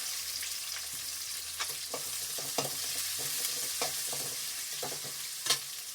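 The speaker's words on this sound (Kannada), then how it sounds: "ಈಗ ಕಂದು ಬಂದಿರೋನು ಈರುಳ್ಳಿ ಹಾಕೋಣ. ಸಣ್ಣಗೆ ಹಚ್ಚಿಟ್ಟಿದ್ದೀವಿ, ತೆಳ್ಳಗೆ." Thinly sliced onions fry in a pan for paneer fried rice, giving a constant soft sizzle broken by small scraping stirs and light clicks, quiet and close, with no talking.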